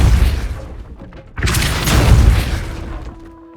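A Depulso force spell cast in the Hogwarts Legacy video game bursts out as a loud booming blast with a rushing whoosh, following a rumbling lead-in and fading into a sustained tonal hum.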